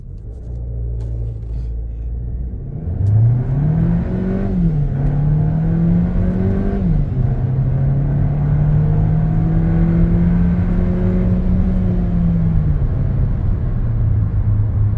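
A 2023 Haval Jolion S launches from a standstill to 100 km/h using launch control. The engine idles, then rises into a loud, sustained acceleration whine that climbs in pitch through gear changes, heard from inside the car.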